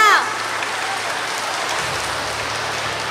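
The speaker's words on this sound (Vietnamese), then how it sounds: "cùng nổ một tràng pháo tay thật nồng nhiệt nhất để chào đón vị Đức Hồng Y của chúng ta" A church congregation in a Vietnamese parish bursts into warm applause to welcome a cardinal, a dense, steady wash of clapping that fills the whole stretch at an even level.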